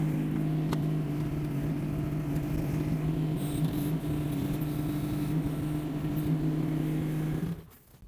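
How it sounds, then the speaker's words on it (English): A small Chinese 450 machine fitted with a bucket runs steadily on an icy driveway while plowing snow, its engine drone loud and constant before cutting off abruptly near the end. "I'm going to take the 450 out on the driveway and start plowing some snow"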